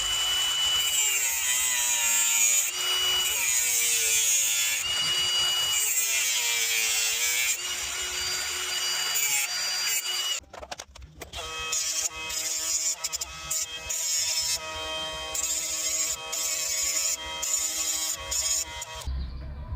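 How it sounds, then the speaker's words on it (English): A lathe turning a steering shaft from a Toyota Prius for an electric power steering swap into a 1971 Chevy C10 gives a steady whining machine drone, then a rougher, choppier cutting noise, close and continuous. "then we're going to get this bit in the lathe"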